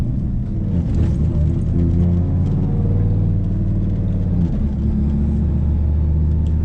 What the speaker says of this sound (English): But of course we gotta let the truck warm up.